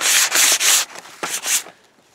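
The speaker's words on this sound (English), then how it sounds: "So I'll just give it a light sanding so that it can accept the stain" Sandpaper rubbing over a wooden hiking stick in a few quick strokes: three close scratchy passes, a pause, then two more, fading out at the end.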